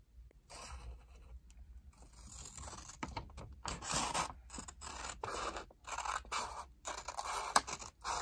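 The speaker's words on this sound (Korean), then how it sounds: "지금 접은 거를 반을 가위로 잘라 줄게요." Scissors cut through folded colored paper (yellow and black origami sheets), a close, quiet series of crisp snipping and rasping strokes in short bursts with brief pauses between, and no talking.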